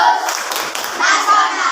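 Schoolchildren in a classroom performing the PPK rhythmic clapping chant, a burst of hand claps mixed with children's voices, close and lively throughout.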